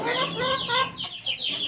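A hen, set to brood the day before, clucks close by in a short burst of throaty calls, ending with a higher squawk.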